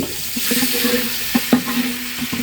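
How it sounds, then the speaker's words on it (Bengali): Chicken meat and potatoes frying in a pan, giving a steady close sizzle with a few soft stirring knocks and scrapes scattered through, with no talking. "এখন এই যে মুগরির মাংসটা ভেজে নিচ্ছি"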